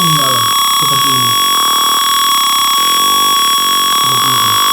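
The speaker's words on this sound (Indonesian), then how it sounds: "bila suhunya lebih dari 45 derajat, lampu LED dan buzzer akan menyala seperti ini." An Arduino circuit simulation sounds its buzzer alarm when a temperature sensor reads above 45 degrees, a loud, continuous electronic tone that runs throughout while a person talks underneath.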